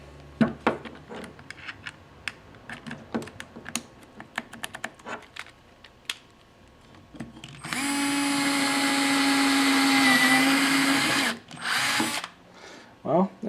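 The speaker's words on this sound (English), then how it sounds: "Well, it drills into stuff pretty good." Several seconds of handling clicks and taps, then a Skil 7.2V lithium-ion cordless mini drill whirs steadily at high pitch for a few seconds, stops, and briefly whirs again.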